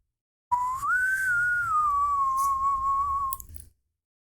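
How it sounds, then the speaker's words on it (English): A single whistled melody line from the Twilight Princess video game soundtrack, clear and sustained for about three seconds, gliding up at the start and then holding steady before stopping abruptly. "There's a lot of whistling in the Twilight Princess soundtrack, I just realized."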